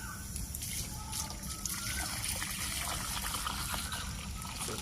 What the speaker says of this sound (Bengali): দুধটি ঢেলে দিলাম